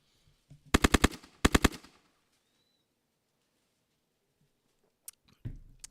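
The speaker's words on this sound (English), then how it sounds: "Those bullets that I just played right now" Recorded gunfire plays back as two quick bursts of rapid automatic shots, about five cracks each, loud and close, followed by silence and a couple of faint clicks and thumps.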